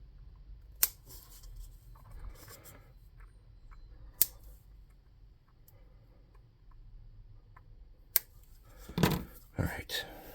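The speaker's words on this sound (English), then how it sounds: "I'm just going to take a snip them down a little bit more." Three isolated, sharp snips of scissors trimming the legs of a miniature stirge model, spaced a few seconds apart and close, with quiet handling noises and soft speech between cuts.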